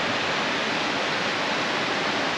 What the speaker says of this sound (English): We've got a smaller waterfall there, which you can walk down to.